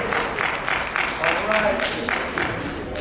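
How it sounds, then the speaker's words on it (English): Audience applause welcoming a guest speaker at a high school talk, a steady wash of many hands clapping with a voice speaking over it. "Give him a round of applause."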